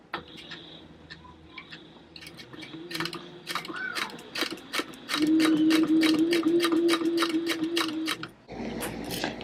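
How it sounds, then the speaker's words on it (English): A Sailrite Fabricator industrial sewing machine with a size 20 needle stitches through thick cotton and vinyl: rapid rhythmic needle clatter with a motor whine, speeding into a fast steady run before stopping, close and loud. "let me sew this up so you guys can see how easy it is to go through stuff"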